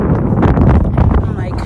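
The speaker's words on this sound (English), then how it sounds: "It is so windy." Strong wind buffets the microphone at an outdoor track, a loud continuous low roar that gusts and swells steadily throughout with no pause.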